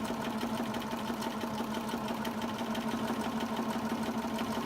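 A sewing machine stitches a quilt block, running with a steady, fast mechanical whir and rhythmic needle chatter, loud and close throughout without pause.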